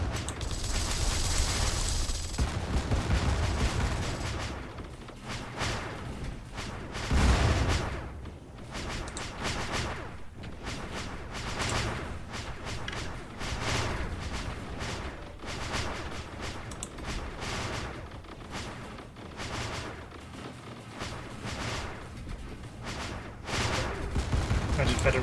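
Weapons and torpedoes fire repeatedly during a space fleet battle in the strategy game StarDrive, a steady stream of rhythmic, percussive bursts and booms, with a voice talking over the action throughout.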